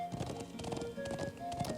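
Horse galloping in the video game Trails of Cold Steel (PS4), rhythmic clip-clop hoofbeats over a steady background of game music with sustained tones.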